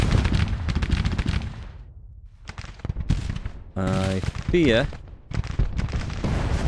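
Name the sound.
enemy cannon fire in Grand Tactician: The Civil War video game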